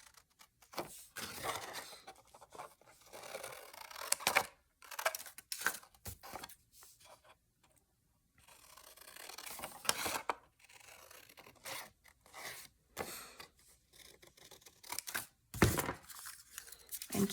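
Scissors cutting through 6x6 craft paper, a series of close, crisp snips and rustling cuts in irregular bursts separated by short pauses, with no talk.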